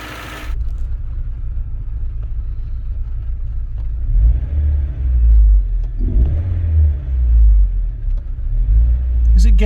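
Car engine, a Peugeot 205 GTi being diagnosed for a fault, running while warming up, with a deep close rumble that swells in low surges, and muffled voices audible beneath it.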